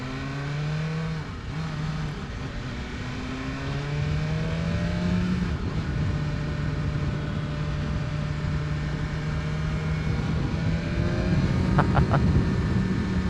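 A 2021 BMW M 1000 RR motorcycle accelerates through several gears. Its engine note climbs in repeated rising sweeps, with short dips at each shift, over steady wind rush heard from the rider's position.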